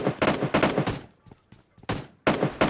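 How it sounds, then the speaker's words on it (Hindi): Gunfire in the video game PUBG Lite, arriving as rapid bursts of shots that cluster early, fall to a few faint scattered pops, then return loud near the end. "तो यहाँ पर 2-3 जगह से फायरिंग साउंड आने लगती है।"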